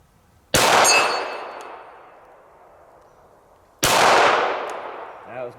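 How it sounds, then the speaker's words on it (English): Two loud, sharp handgun shots from a Canik SFx Rival fired at an outdoor range at 50 yards, spaced about three seconds apart, each ringing out with a long decaying tail. "I'm gonna take a few shots here at 50 yards"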